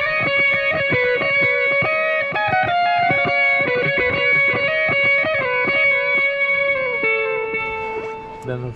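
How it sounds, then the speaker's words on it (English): An electric guitar played through a distortion and delay patch, set up for a tour, rings out in sustained, overdriven notes with repeating echoes, loud and close, before fading toward the end. "Also use that with a distortion and a delay for."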